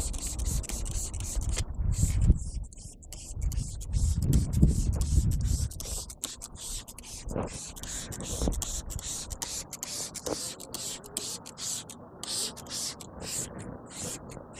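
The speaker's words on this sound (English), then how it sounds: "So I'm gonna go ahead and spray the tire first." Chemical Guys Extreme Orange heavy duty degreaser sprayed onto a car tire, with a series of short hissing spray bursts, sharp and repeated, following some rubbing and handling noises.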